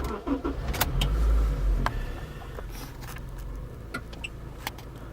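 A Honda car engine starting, with a loud low rumble over the first two seconds that settles into a steadier idle, plus a few sharp clicks and no talking.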